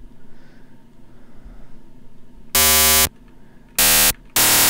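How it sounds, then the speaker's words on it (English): A synthesizer tone with every harmonic turned up, buzzing like a harsh sawtooth wave, blares in three loud bursts, the first and last held longer, after a quiet stretch of low room noise. "Yeah, it sounds like a crappy saw wave."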